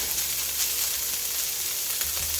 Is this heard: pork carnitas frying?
yes